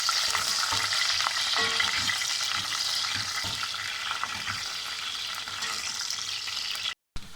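Peppers frying in a pan for a meat türlü stew give a continuous, moderate sizzle, with soft stirring knocks and a brief dropout near the end.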